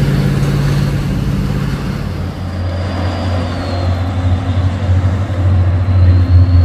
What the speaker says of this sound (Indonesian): Tiga unit truk tangki menanjak tangki CPO truk Hino bosku